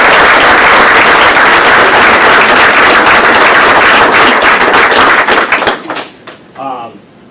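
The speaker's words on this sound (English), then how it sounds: "let's have one more round of applause for our entire group of amazing" Loud round of applause from the crowd at a school board meeting, dense clapping that fades out near the end, leaving a few scattered claps and a brief murmur of voices.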